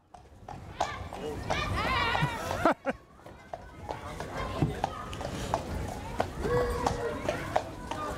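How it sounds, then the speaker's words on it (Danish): Horse hooves clip-clop on a street as a horse-drawn carriage approaches at a local outdoor event in Aabenraa, Denmark, a steady trotting rhythm under crowd chatter and people talking nearby. "Der kommer hestevogn!"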